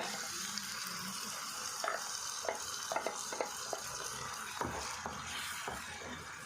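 Egg green masala fries in a pan as a low, steady sizzle with a series of light scraping stirs and small taps, quiet and close, and nobody speaks.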